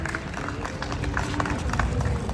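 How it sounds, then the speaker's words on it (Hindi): A crowd at a Holi special kavi sammelan applauds, a dense, fairly loud clapping that runs steadily throughout with voices mixed in. "जोरदार तालियां।"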